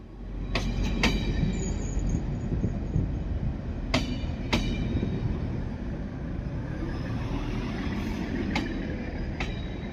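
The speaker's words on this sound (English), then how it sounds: "our train is arriving into platform 5" A Swedish Y2 train, based on the Danish IC3, rolls into a station platform with a steady low rumble, brakes and wheels squealing in sharp bursts over the noise.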